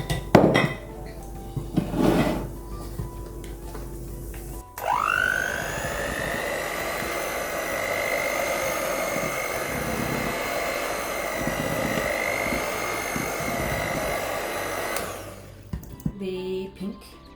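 A stand mixer whirs steadily for about ten seconds, beating pink champagne cake batter with flour, after a few clinks and knocks of utensils against a bowl; no voices.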